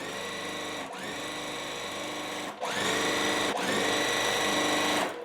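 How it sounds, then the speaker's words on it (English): Sewing machine stitching quilt block fabric pieces together, running in three steady bursts separated by brief pauses, loud and close with no talk. "I'm gonna sew it on."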